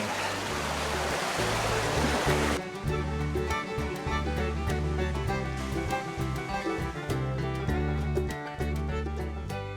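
Wyming Brook, a woodland stream, flowing steadily with continuous rushing water; after a few seconds, music plays over the stream throughout.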